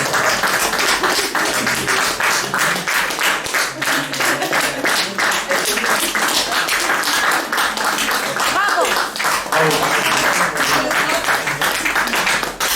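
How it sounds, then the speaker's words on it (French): Sustained audience applause for performers at a storytelling evening, a thick, even wash of many hands clapping that stays loud for the whole stretch, with some voices underneath. "Je vous laisse les applaudir."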